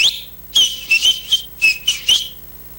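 A man whistles an imitation of a bird, sharp high chirping notes in quick irregular bursts, some rising and falling, loud and close with nothing else around.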